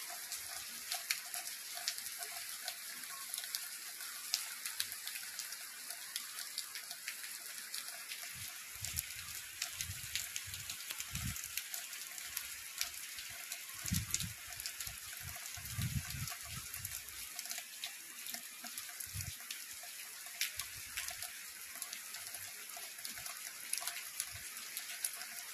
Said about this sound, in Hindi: बहुत तेज बारिश चालू है अभी